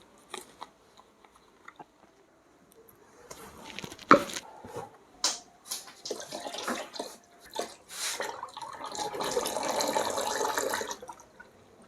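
China Flower perfume poured into a drum for dipping agarbatti sticks, heard as faint liquid splashing and pouring building into a steadier, louder wet stream, mixed with scattered clicks and handling knocks nearby.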